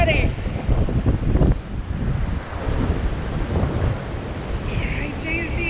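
Ocean surf washes continuously onto a beach during a loggerhead sea turtle release, heavy wind rumbling across the microphone and a few faint voices briefly rising over the roar.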